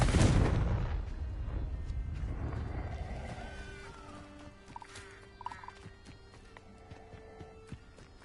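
A Confringo spell blast in the Hogwarts Legacy video game, with a loud explosive burst at the start that rolls off into a fading rumble, followed by quieter game effects and chimes.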